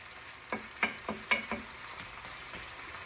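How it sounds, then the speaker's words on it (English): Vegetables sautéing in a pan for Jamaican ackee and saltfish: a soft sizzle broken by a quick run of five or six scraping stir strokes, then a quieter hiss. "So you just let the vegetable saute a little bit before you add the saltfish and the ackee."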